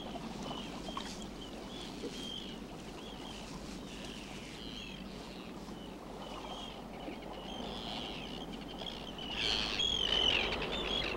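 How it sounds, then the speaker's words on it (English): Arctic terns calling in Shetland, scattered sharp chirping cries at moderate distance over a steady background of water and wind, growing a little louder and busier near the end. "The arrival of the Arctic tern heralds the brief Shetland summer."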